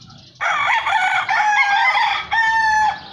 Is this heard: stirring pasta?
no